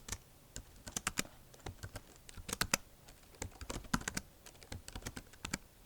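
Typing on a computer keyboard at a Linux terminal, with close, crisp key clicks in irregular bursts and short pauses, fairly quiet and with no voices.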